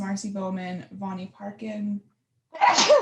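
Talking voice reads out a list, pauses briefly, then a single loud, sharp sneeze bursts out nearby.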